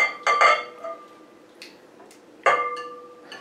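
Dishes and a bowl clank in a home kitchen while butter is scraped in for Linzer torte cookies, with a few sharp, ringing clinks spaced apart and quiet pauses between them.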